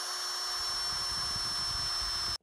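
A power drill whirs steadily, driving screws into wooden L-girder model railroad benchwork, one continuous close run that stops abruptly at the end.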